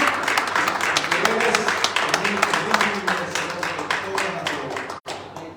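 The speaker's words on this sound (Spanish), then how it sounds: "Dale un fuerte aplauso al Señor." Church congregation applauding during a sermon, sustained rapid clapping from many people at moderate distance with voices underneath, ending in a brief dropout.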